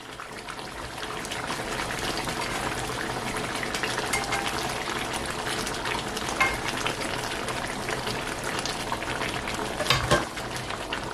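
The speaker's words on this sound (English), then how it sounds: "And now I'm going to go ahead to add my pot roast mackerel fish." Roasted mackerel fish going into a pot of boiling egusi pepper soup, a steady bubbling and sizzling simmer with a couple of soft plops and stirring clatters, close and continuous with no talk.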